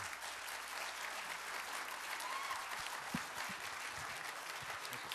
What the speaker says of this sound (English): Let's give them all once again a round of applause